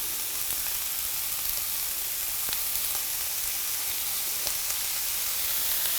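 Vegetables frying in a pan for a vegan ramen give off a steady, soft sizzle and hiss, with a few faint clicks and no talking.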